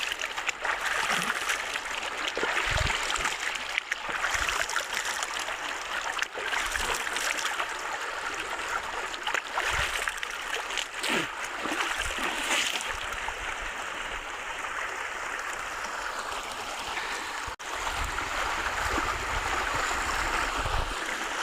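Water pours and splashes steadily as someone washes their hands and feet outdoors in the cold season, a continuous bright trickling rush with brief splashes and a few sharper knocks throughout.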